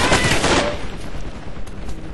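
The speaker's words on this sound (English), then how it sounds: "They have automatic weapons, that's what's going on." Loud automatic weapon fire in the military shooter game Project Reality, a dense roaring burst that fades slightly into continuous rattling gunfire.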